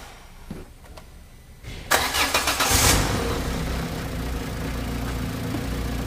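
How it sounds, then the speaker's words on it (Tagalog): A Peugeot 206cc engine starting after a timing belt and water pump replacement: a brief crank catches on one try, then settles into a steady, close idle with no talk. "Tara, paandarin na natin to."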